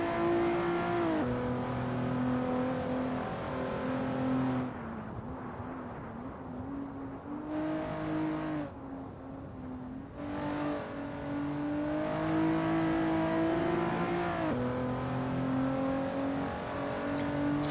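Race cars lapping Silverstone Circuit in a sim racing video game, engines droning and revving steadily through gear changes, pitch dipping and climbing as they brake and accelerate, continuous and fairly loud throughout.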